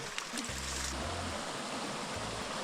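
Continuous rushing water from a nearby mountain stream with a small waterfall in rural Portugal, a steady broadband hiss with a few low thumps underneath.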